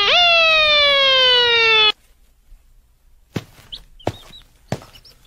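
Cartoon police car siren wails loudly for about two seconds, a rising then steady electronic tone that cuts off abruptly, followed by quieter scattered clicks and taps.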